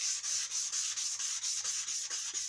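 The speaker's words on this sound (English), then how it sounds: "So you sand with the grain." Hand sanding a CST-24 wooden kit guitar body with 400 grit sandpaper, moving along the grain in a steady run of about ten close, even rasping strokes with no talk.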